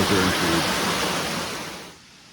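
Rushing water from falls in the Dolly Sods wilderness makes a loud, close, steady broadband roar that eases off slightly in the last moment.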